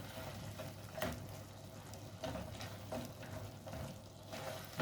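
Basmati rice in a pot being stirred after saffron powder is added, soft scraping and gentle sizzling at low volume, with faint recurring stirring strokes and no talk.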